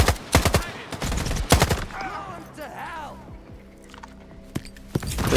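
Bursts of gunfire in the video game S.T.A.L.K.E.R. 2: several loud sharp shots early on, then quieter scattered shots near the end, with voices and other game sounds between them.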